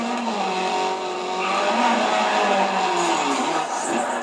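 A rally car slides at high speed through a gymkhana course in Dirt 3, its engine droning steadily with rising and falling pitch as the tires scrub and squeal, loud and close throughout.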